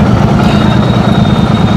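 Heavy low engine drone of a bus backing up in a dense traffic jam, steady and close throughout with no pauses.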